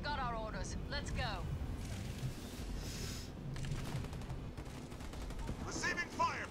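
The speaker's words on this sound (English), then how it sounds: "Receiving fire from ground troops" Gunfire from ground troops in the Halo Wars 2 strategy video game, with continuous rattling automatic fire and scattered impacts running the whole time beneath radio-style voice chatter and unit callouts.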